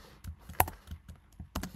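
Someone typing on a computer keyboard, a handful of soft, scattered keystrokes with irregular spacing, close and quiet, one slightly sharper click among them.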